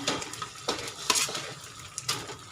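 A spoon stirring thick adadiya pak mixture in a metal pan: several distinct scraping clinks and knocks in an uneven rhythm, close and fairly quiet, with soft shuffling of the dense sweet between strokes.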